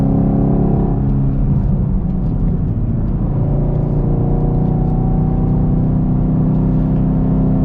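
Chevrolet Camaro 2SS 1LE on Eibach lowering springs driving through twisty turns, its V8 engine rumbling loud and steady from inside the car, rising in pitch as it accelerates out of the corners.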